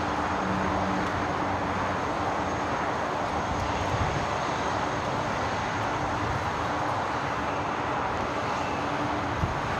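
A Boeing 747 freighter at LAX produces a continuous broad jet roar that holds steady and moderately loud, heard from a distance across the airfield with no talking.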